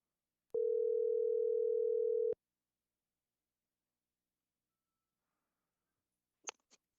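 A phone call being placed: one steady electronic telephone tone holds for about two seconds, then silence and a couple of faint clicks near the end.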